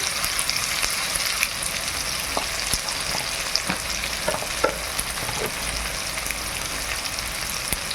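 Ginger, garlic and turmeric powder fry in a pan, an even crackling sizzle with sporadic stirring scrapes and taps, close and steady throughout.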